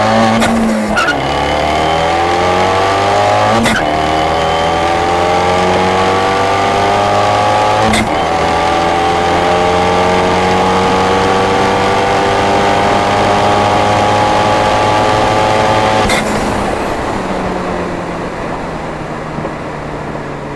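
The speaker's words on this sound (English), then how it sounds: "We're doing a roll race." A loud, close Abarth 124 Spider engine revs hard in a roll race, its pitch climbing steadily and dropping back at each gear shift as it accelerates.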